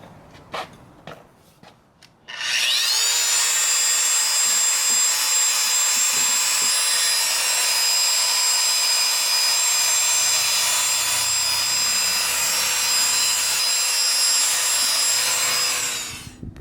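A rotary polisher with a 1500 grit pad works a stoneware ceramic surface, spinning up after a few taps into a loud, steady whine with a constant tone for about fourteen seconds before winding down.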